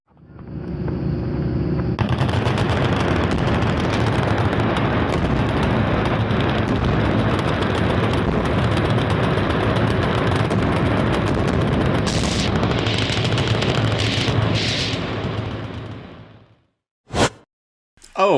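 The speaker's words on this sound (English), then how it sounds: "That looks to me like gunfire at explosives of some sort." Sustained heavy gunfire and explosions at a gun range in Kentucky form a dense, loud, continuous roar of rapid shots for about fifteen seconds, then cut off, leaving a couple of isolated sharp bangs near the end.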